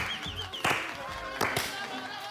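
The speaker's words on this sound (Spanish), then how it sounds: "Aplaude, Anita" A few sharp, separate hand claps ring out close by, spaced irregularly between bursts of lively conversation.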